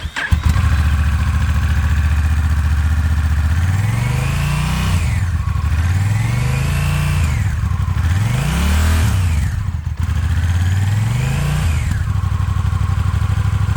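Honda Rebel 1100 DCT motorcycle from 2022 on its original exhaust, engine revving loudly and close in a run of rising and falling throttle blips over a steady idle, no talk.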